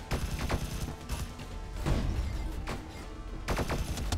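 Turrets open fire in the video game Sublevel Zero, rapid overlapping gunfire bursts crackling throughout with dense, loud volleys that swell and fade.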